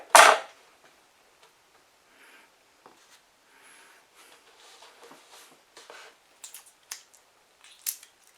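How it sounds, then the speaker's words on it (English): A knife blade slices through a cucumber in one sharp, close crunch at the start, followed by quieter scattered handling taps and small clicks. "But I'll cut this other one into half again, so I've got a quarter of the cucumber."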